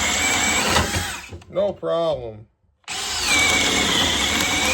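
DeWalt DCD803 cordless drill spinning a 7/8-inch Jorgensen paddle bit through a 2x10 board: a loud, steady whirring bore that breaks off for a brief spoken remark and a short silent pause, then resumes strongly to the end.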